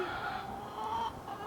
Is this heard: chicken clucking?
yes